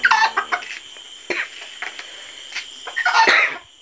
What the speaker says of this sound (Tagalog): Pumuputak na yung kanyang inahin